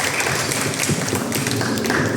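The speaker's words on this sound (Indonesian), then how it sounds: "tepuk tangan dulu buat Tuhan" Church congregation applauding during a children's week and 70th anniversary SMGT service at Jemaat Gloria Pengadan, a dense steady wash of clapping lasting the whole moment.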